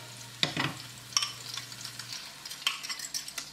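Eggs scramble in a hot pan for vegetarian pad thai, soft sizzling broken by a few scraping stirs of a utensil, with a low hum fading out partway.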